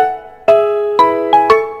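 A short KakaoTalk default voice call ringtone of bright chiming tones, four struck notes rising in a quick melodic phrase with sustained ringing overtones, clear and alone.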